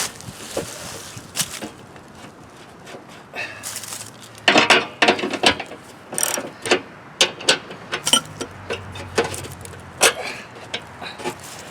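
A ratchet tightens the skid shoe bolts on a snow blower, giving irregular close metallic clicks and clanks that grow busier and louder partway through, with no one talking.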